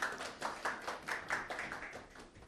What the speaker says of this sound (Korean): 박수로 맞이해 주시면 감사하겠습니다